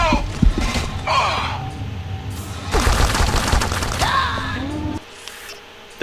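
Rapid bursts of automated turret fire in Deus Ex: Invisible War, loud close volleys in repeated clusters with gasps and vocal cries between them, cutting off abruptly near the end.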